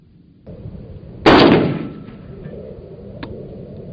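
A single sharp gunshot from a semi-automatic rifle, loud and close, with a decaying echo trailing off afterward over low background noise.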